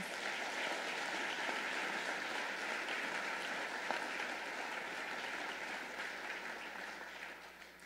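Faint, distant applause from the audience at a State of the City address, a steady wash of clapping lasting several seconds and slowly tapering off.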